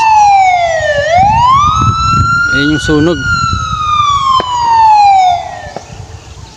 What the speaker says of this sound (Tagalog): May bumbero agad, ayos.